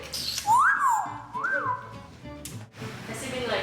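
A pet bird whistles two clear rising-and-falling notes, close and fairly loud, with some background voices and rustling.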